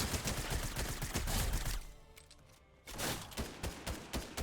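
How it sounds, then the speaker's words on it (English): Rapid automatic gunfire from a video game shooting match crackles loudly in dense bursts, breaks off for about a second, then resumes just as loud, with no talking. "Oh, my guy's shooting at him."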